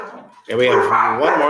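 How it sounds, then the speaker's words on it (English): Dogs bark indoors at home, loud and close, breaking in over a man's speech that continues during and after the barking. "Sorry about the dogs."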